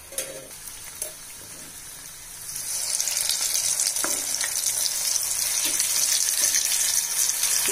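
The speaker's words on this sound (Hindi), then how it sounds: "अब इसी तरीके से मैं दूसरा बैच भी डाल दे रही हूं उसमें।" Soya chaap pieces go into hot oil as a second batch and set off a steady, bright sizzle that swells after a few seconds. A few clinks and stirring sounds come through the frying, with no talk.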